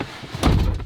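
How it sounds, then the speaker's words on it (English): A Land Rover LR4 car door shuts with a single solid thunk, close and fairly loud, with a brief low rumble after it and no talking. "What happens if I shut the door with the key?"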